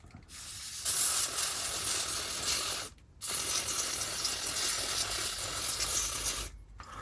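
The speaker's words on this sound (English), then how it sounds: "I'm going to give this a quick clean with my contact cleaner" Contact cleaner sprays onto a grimy Hornby Dublo 3-rail BR Standard 4MT locomotive in two long, loud, close hissing bursts separated by a short pause, with a third burst starting at the end.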